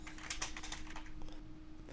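Quick, irregular keystrokes on a computer keyboard as a form title is typed, close and fairly quiet with a steady faint hum underneath and no speech.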